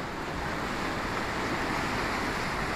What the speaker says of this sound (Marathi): ही बघा लाट आली